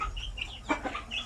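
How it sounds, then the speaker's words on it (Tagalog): Chickens on a poultry farm give a few short clucks and squawks, moderately near but fairly quiet, with no talking. "So far yung ating mga manok dito,"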